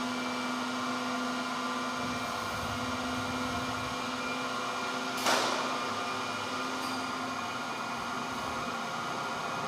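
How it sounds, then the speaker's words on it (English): Alternator motor of the SAQ Grimeton VLF transmitter running during its 100-year anniversary transmission, a steady droning hum with tonal whine and a brief click midway, no talk. "Staffan is increasing the liquid level in the liquid resistor to increase the torque of the motor."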